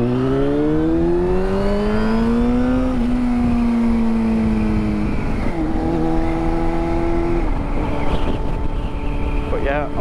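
A car drives along a road with its engine steadily rising in pitch through the gears, close and loud, with changes as it shifts and eases off, and no talk over the motor.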